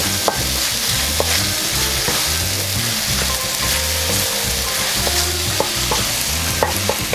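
Kung pao prawns stir-fried in a wok, a steady loud sizzle with rhythmic scraping and tossing of the spatula throughout, no voices.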